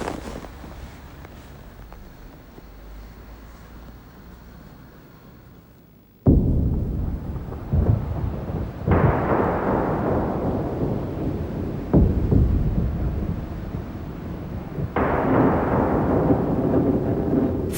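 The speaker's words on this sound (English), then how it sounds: "Thunder cracking, storm clouds gathering." Deep thunder cracks and long rumbles roll through a gathering storm, with wind buffeting the microphone; a quieter stretch gives way to a loud sudden crack, followed by further booming peals.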